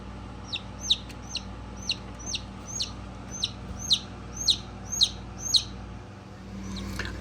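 A newly hatched Polish chick peeps inside an incubator, a run of sharp, evenly spaced high chirps, about a dozen in quick succession, fairly close and clear over a quiet hum.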